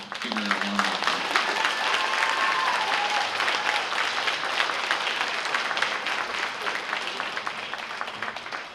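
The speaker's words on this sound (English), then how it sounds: "So give her a round of applause" Dense, steady applause from an audience at a Lunar New Year gala, welcoming a guest speaker. The clapping is loud and sustained throughout with faint crowd noise and brief voices at the start.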